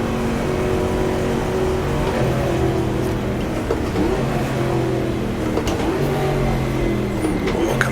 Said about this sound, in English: I can hear cars around me, behind me, next to me